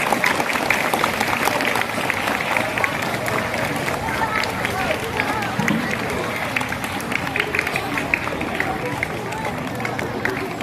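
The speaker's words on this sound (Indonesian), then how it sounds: "Lebih gemuruh lagi tepuk tangannya." An audience at an anti-bullying outreach event for children claps in a sustained, dense burst, with crowd murmur mixed in.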